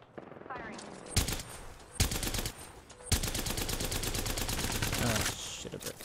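Gunfire in the battle royale shooter Apex Legends: a few single shots, then a long, rapid automatic burst of sharp cracks rattling on for several seconds, loud and close.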